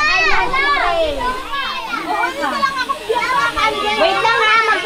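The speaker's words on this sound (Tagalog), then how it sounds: "Kids, huwag maingay kids." Noisy crowd of children chattering and shouting in a classroom during a Teachers' Day gathering, many overlapping young voices filling the room continuously and loudly.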